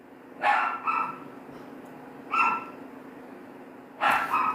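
Dogs bark in the next room in three separate bursts: a double bark near the start, a single one in the middle, and another double bark at the end. The barks are moderately loud but muffled by the wall, with quiet room noise in between.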